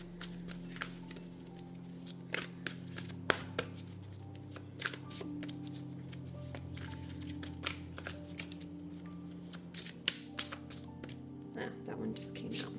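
Tarot cards shuffled by hand for a reading, soft riffling and papery taps in short irregular bursts over a steady low hum and faint background music, quiet and close.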